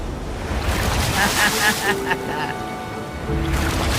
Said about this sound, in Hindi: जरा देखो तो दोनों तरफ पानी कैसे टकरा रहा है